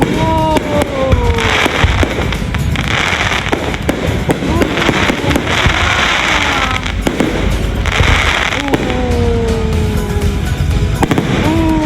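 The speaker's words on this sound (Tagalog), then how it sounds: "ang ganda ng fireworks, naiyak ako" Fireworks bursting at a company team-building event, a dense run of loud cracks and booms with whistling rockets rising between them, close and continuous throughout.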